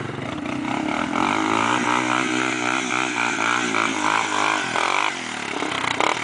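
A trail motorcycle engine running close by on a dirt trail, a loud, buzzy, steady drone whose pitch rises and falls with the throttle.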